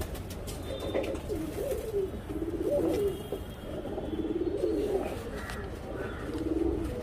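A young racing pigeon being readied for tournament flying coos in repeated soft, throaty phrases, fairly close, over a steady low background hum with no talking.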